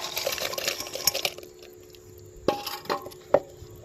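Fried pakoras are dropped one after another into cooked kadhi curry in a pot, producing soft wet plops and splashes with faint clinks of a utensil, close and quiet with no talk.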